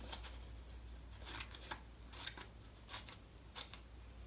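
Scissors cut paper for a leaf craft in a few short, faint snipping bursts spaced unevenly over a low, steady background hum.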